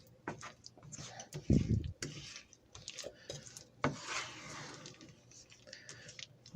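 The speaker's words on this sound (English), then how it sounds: "You just got to keep stirring them as they melt." A spoon stirs white chocolate chips and milk as they melt in a pan, giving soft, irregular scraping and rubbing sounds with one louder clunk near the start, all quiet and close.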